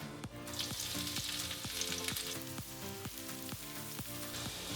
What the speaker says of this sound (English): we start with frying the onions.